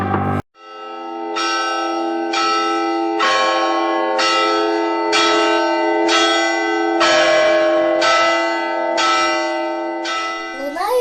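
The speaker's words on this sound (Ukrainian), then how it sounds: "дзвони в Україні скликають в храми усіх нас" Church bells ring for Easter in Ukraine, sounding about nine loud, resonant strokes at a steady pace, each one sustaining into the next, with a voice faintly present.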